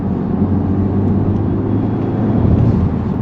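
A turbocharged Honda Civic Type R (FL5) engine with an aftermarket intake drones loudly and steadily at close range under 22 psi of boost, a continuous rushing roar with no pauses.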